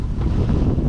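Wind buffets the microphone near the gondola at the Steamboat Springs ski area, making a loud, steady low rumble that lasts the whole moment with no voices.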